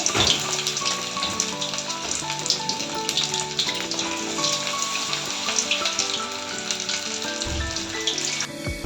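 Batter-coated mushrooms fry in hot oil in a kadhai for chilli mushroom, giving a steady, close crackling sizzle with fine popping throughout and soft tonal music underneath.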